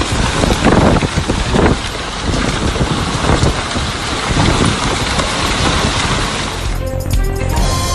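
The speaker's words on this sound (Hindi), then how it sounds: "सऊदी दारुल हुकूमत रियाज में तूफानी हवाओं के साथ मूसलाधार बारिश और जालाबारी से निज़ाम जिंदगी मुतासिर।" Torrential rain pours steadily with stormy winds and hail in Riyadh, a loud, dense roar of water that stays constant throughout.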